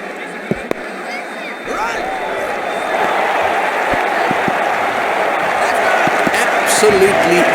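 Crowd applause and cheering swell in a cricket match from the Ashes Cricket 2009 video game, India versus Pakistan, building into a sustained, steady roar with faint commentary-like voices underneath.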